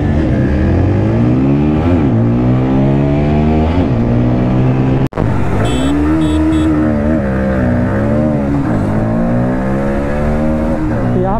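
TVS Apache RTR 160 4V and Bajaj Pulsar NS160 motorcycles, both 2024 models, drag race, their engines revving loud and near, rising through the gears with a brief cut partway through.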